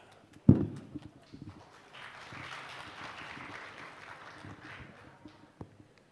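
Audience applause for the master of ceremonies at a seminar on Indonesia's blue economy roadmap, a sharp thump followed by a steady, moderate wash of clapping crowd hands lasting several seconds before fading.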